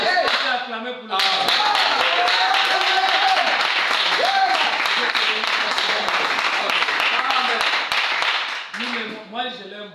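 Congregation at a church sermon breaks into loud sustained applause and clapping lasting most of the moment, with voices speaking briefly before and after the ovation.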